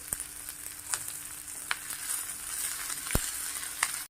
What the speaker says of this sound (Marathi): कांदा थोडासा तेलावरती परतून घ्यायचा आहे